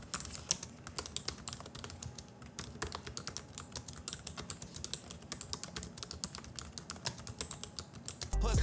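Typing on a Gigabyte full-size keyboard with short key travel: a rapid, steady run of crisp, close key clicks, fairly quiet, with no voices.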